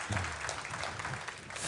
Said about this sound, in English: applaud for them, please.